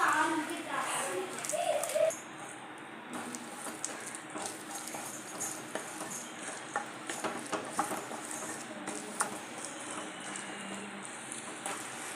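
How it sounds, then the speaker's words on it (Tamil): Beaten eggs are stirred and mixed together in a bowl for a Tamil-style egg poriyal, producing soft, irregular taps and scrapes of a utensil over quiet background noise, with a few faint voices. "இப்போ எல்லாத்தையும் ஒன்றா மிக்ஸ் பண்ணிக்கிறோம்"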